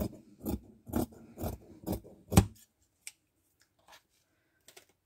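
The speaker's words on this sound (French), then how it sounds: "Je vais venir couper le surplus" Scissors snip through excess felt material wrapped around a roll for a craft gnome: five or six crisp, close cuts in quick rhythm, followed by a few faint handling ticks and near silence.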